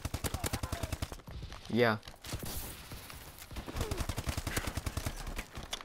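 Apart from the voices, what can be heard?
S12 shotgun firing in Call of Duty: Advanced Warfare video game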